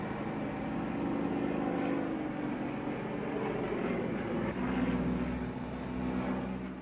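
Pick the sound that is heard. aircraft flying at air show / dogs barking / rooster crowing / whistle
aircraft flying at air show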